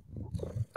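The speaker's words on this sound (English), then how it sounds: "I'm just going to hold my mic to her face so you can all hear her purr." A cat purrs right up against a microphone, a brief, close, low rumbling burst that fades out within a second.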